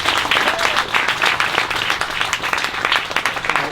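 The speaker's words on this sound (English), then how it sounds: "another round of applause for PJ and Roy Hirabayashi." An audience at an afternoon barrack dedication ceremony in San Jose applauds steadily, a dense, even wash of many hands clapping together throughout.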